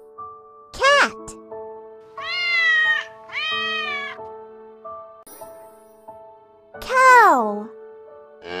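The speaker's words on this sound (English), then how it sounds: "Cat." A domestic cat meows several times, clear and close, with drawn-out rising and falling cries separated by short pauses and a soft sustained musical tone underneath.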